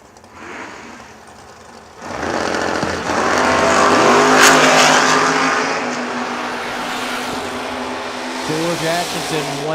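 A Corvette and a Camaro drag racing, engines roaring hard at launch after a quieter idle, then a sustained loud high-revving blast that slowly fades, with a voice talking over it.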